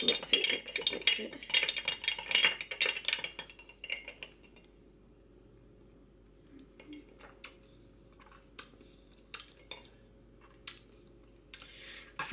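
A spoon stirs a mixture in a bowl, with rapid clinking scrapes for the first few seconds, then quieter, sparse taps and clicks of utensils against the dish, close by.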